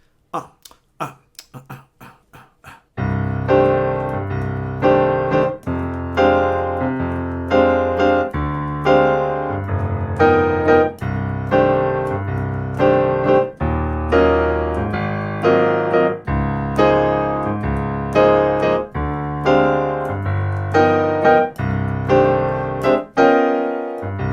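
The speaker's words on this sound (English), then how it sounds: "So let's hear the piano part. It sounds like this." Solo piano plays a lively bossa nova pattern, with repeated syncopated chords and a bass line, steady and loud after a few sparse opening notes.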